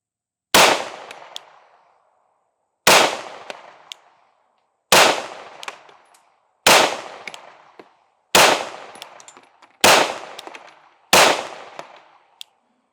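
Seven loud, sharp pistol shots from compact carry pistols, a Sig Fuse and a Shield Carry Comp, fired one at a time at steady intervals of about two seconds, each with a short ringing decay and no talking.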